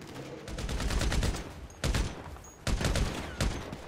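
Video game gunfire in GTA 5, a dense burst of rapid shots followed by several separate loud volleys in quick succession, close and sharp, with no talking.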